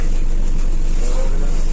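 A steady low engine rumble with constant broadband road noise, like riding inside a bus; faint voices mingle in the background.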